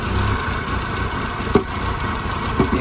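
A 1.8-litre turbocharged Audi A4 engine idles roughly with a suspected coil or spark plug fault, giving a steady close mechanical rumble broken by two sharp knocks.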